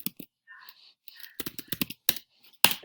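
Sharp keyboard clicks tap out in quick irregular bursts, close and fairly quiet, with short pauses between clusters of keystrokes.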